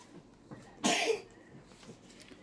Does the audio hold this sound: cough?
yes